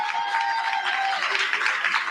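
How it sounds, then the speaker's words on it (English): Audience at an election night event giving a round of applause, a steady wash of many hands clapping with some cheering, continuous and fairly loud, with a voice briefly audible beneath it. "So one more round of applause, please."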